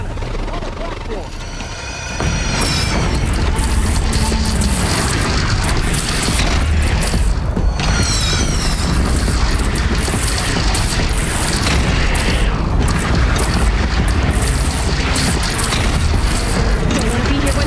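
Cannon fire in the Horizon Zero Dawn video game, with heavy booms repeating over a loud, continuous battle din of machinery and explosions, while voices speak over the action.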